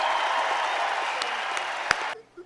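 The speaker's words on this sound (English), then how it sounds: "Give him a big round of applause." A crowd at the outdoor Lake Tahoe Summit applauds Senate Democratic leader Harry Reid, a steady wash of clapping that carries on for about two seconds before cutting off abruptly.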